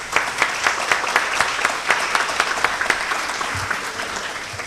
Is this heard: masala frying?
no